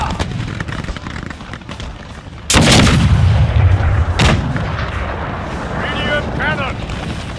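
Cannon fire in the Napoleon Total War video game booms out in two heavy, close blasts a couple of seconds apart, over a busy battlefield din of gunfire and voices.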